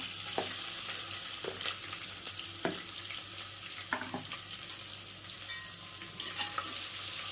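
Onion goes into hot oil already holding mustard seeds, cumin, browned garlic and chillies for dal khichdi. A close, steady sizzle is broken by repeated scraping stirs of the spoon.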